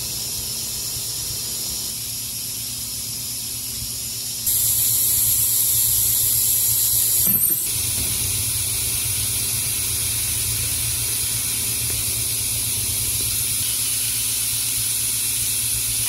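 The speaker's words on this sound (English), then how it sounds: "using the fluid evacuator to suck the fluid out" On a Toyota Tundra, a fluid evacuator draws brake fluid out with a steady, close hiss that jumps louder and sharper partway through and then continues evenly to the end, with no talking.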